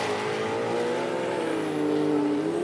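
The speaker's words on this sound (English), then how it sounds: "when the clutch hits and the track's greasy, it's just you do a burnout standing still" An automatic drag car with a clutch doing a standing burnout on a greasy drag strip, a steady loud engine roar that climbs slightly in pitch, close and continuous with no talking.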